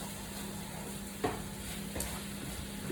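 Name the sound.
chicken frying in a pan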